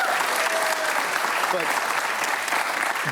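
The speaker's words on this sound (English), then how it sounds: "You should clap this time." An audience at a panel discussion on AI, algorithms and art breaks into steady, loud applause that carries on throughout, with a speaker's voice faintly underneath.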